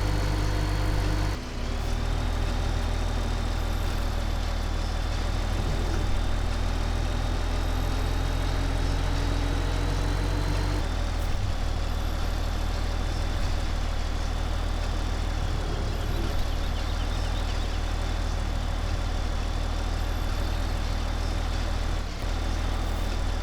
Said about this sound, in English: Perfect opportunity to test out how this tractor handles off-road.